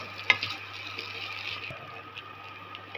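Eggs being mixed into bread masala in a frying pan, a soft, steady sizzle with faint scraping throughout and one sharp utensil tap near the start.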